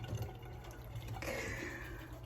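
Live crabs dropped into a pot of hot water for Maryland crab soup, a brief splash and bubbling gurgle of liquid, close and fairly quiet, with no talking.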